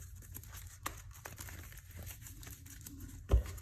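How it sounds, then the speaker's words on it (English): A deck of foil Magic: The Gathering cards being shuffled by hand gives a quiet, continuous crinkling patter of slick card stock, with one sharper snap near the end. "we're back, but I'm still shuffling the deck up."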